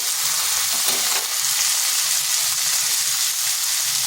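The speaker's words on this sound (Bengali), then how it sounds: "আলুটাকে লাল লাল করে ভেজে নেব।" Potato pieces frying in a pan with onions already softened, a steady close sizzle with faint stirring scrapes throughout and no talk.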